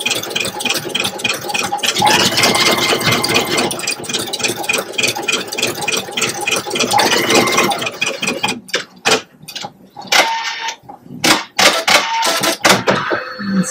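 A Pfaff Creative Icon 2 embroidery machine stitches out a design with a busy, steady mechanical chatter, and later in the run the sound breaks into short bursts and pauses as the machine jumps between stitches.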